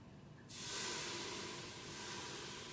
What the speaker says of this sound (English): I'm going to deglaze my pot with just a dash of red wine